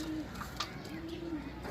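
A pigeon coos close by in a soft, low, rising-and-falling call, heard twice with a brief chirp between them against a quiet background.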